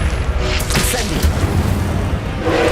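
A fire spell is cast in the video game Hogwarts Legacy, a dense roaring whoosh and burst with thudding low impacts that fills the moment at full loudness, with no talking over it.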